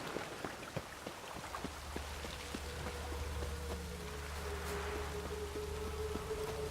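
Rain falls in The Witcher 3: Wild Hunt as a soft, steady patter with scattered distinct drops ticking over a low hum, faint and unbroken throughout.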